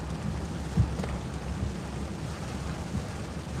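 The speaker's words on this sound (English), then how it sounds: "It's raining hard." Heavy rain pours steadily on a Saturday in the Smoky Mountains, a dense, even hiss with a low rumble of thunder underneath and no voices.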